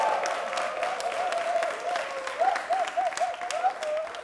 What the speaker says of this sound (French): On les raccompagne avec des applaudissements.